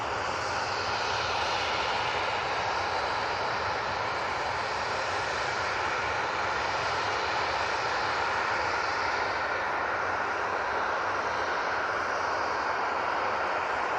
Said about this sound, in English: That Star Alliance is about to touch down.